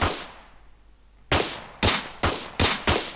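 Five sharp, punchy gunshots from a weapon in an Unreal Engine 5 third-person multiplayer shooter, fired at an uneven pace after a quiet second, each loud crack decaying quickly with no talking.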